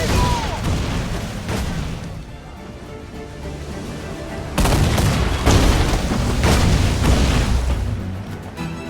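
Naval cannon fire in the Assassin's Creed Black Flag Freedom Cry sea battle, a dense, loud rumble of overlapping booms and blasts that surges sharply halfway through, with shouting voices mixed in.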